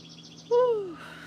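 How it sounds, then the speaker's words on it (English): A bird gives a single short chirp outdoors, a clear descending whistled note that is fairly close, set against a quiet steady hum with faint background sound and no talking. "the birds sound nice"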